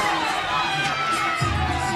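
A crowd at CrossFit Open workout 15.1 cheers Rich Froning on, a steady dense wash of shouting and cheering from many voices with no pause, fairly loud and close.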